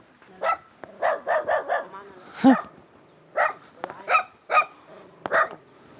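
A dog barks repeatedly in a remote mountain village with no electricity, sharp yaps in irregular bursts with a drawn-out howl-like yelp in the middle, while someone talks over it at times.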